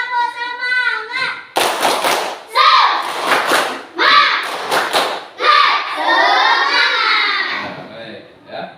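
A class of children claps out a patterned cheer, sharp grouped claps alternating with loud chanted shouts, recorded up close in a classroom with voices dominating between the hand strikes.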